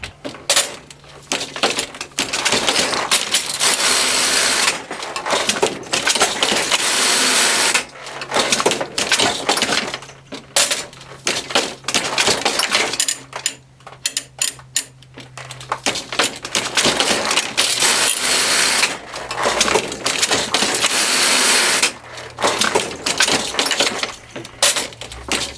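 A hand knitting frame working lace clatters and rattles in long dense runs of metallic clicking, close and loud, broken by brief pauses with no talk.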